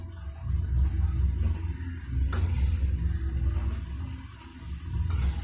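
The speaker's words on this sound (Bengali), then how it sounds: "আবারও ভালোভাবে নাড়াচাড়া করবো যাতে পুরোটা ভালোভাবে মিশে যায়" Ash gourd with coconut being stirred in a pan as a curry cooks, a steady loud sizzle and scraping stir with soft watery bubbling, two brief bright clinks of the utensil against the pan.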